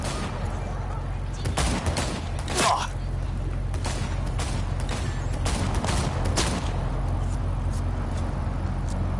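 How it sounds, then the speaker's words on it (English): Gunfire exchanged in a video game: rapid, loud bursts of shots crack out repeatedly over a steady low rumble of background noise, with scattered clattering impacts throughout. "Exchanging fire!"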